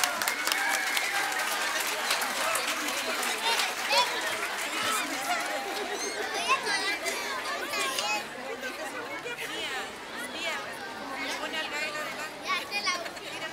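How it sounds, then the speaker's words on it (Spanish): An audience at an outdoor folk-rock anniversary concert in Iquique claps steadily for a children's choir, a dense sustained applause mixed with crowd chatter and cheering voices throughout. "Gran aplauso para nuestros niños y niñas."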